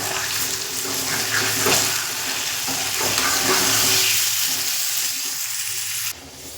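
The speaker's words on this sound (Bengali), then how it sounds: "চিকেনটা একটু নাড়াচাড়া করে নিয়েছি" Chicken pieces sizzle and fry in a pan with reddened onions and salt, a spatula scraping and stirring through them in a steady, close, continuous hiss with no talking.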